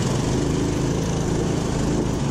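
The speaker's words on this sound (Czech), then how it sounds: "na motokárách ten motor zní jako motor ze sekačky" A small go-kart engine drones steadily at close range, buzzing like a lawn mower, with no breaks or changes in pitch.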